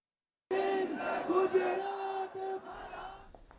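A crowd of young protesters at Jantar Mantar cheers and chants together in celebration, a loud, dense mass of voices that starts suddenly, holds for a few seconds and then fades.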